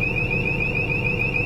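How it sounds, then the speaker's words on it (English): Continuous high-pitched warning tone from a crane load monitor's overload alarm, loud and unbroken with a slight pulsing warble, over a low machinery rumble. "At this point, the overload alarm is now sounding."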